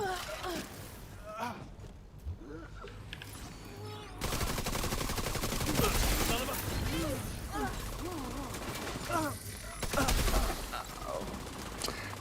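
Rapid gunfire and bursts of combat noise from a shooter video game rattle on continuously, with a voice talking over the action.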